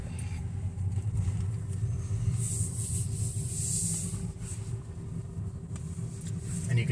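A steady, soft whoosh and low hum from the air conditioning fills the cabin of a 2022 Tesla Model Y Performance, continuous and even throughout with no other distinct sounds.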